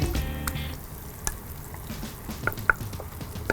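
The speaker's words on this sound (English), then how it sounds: "shake off as much of that flour as you can and get those wings into that oil" Flour-dusted chicken wings frying in hot oil give a steady close bubbling sizzle, with a few sharper pops toward the end and no talking.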